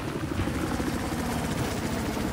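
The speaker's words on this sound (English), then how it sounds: "The helicopter east of your position." A helicopter in the video game Battlefield 4 gives a steady, dense rotor thrum and engine roar that holds constant throughout, with no talk over it.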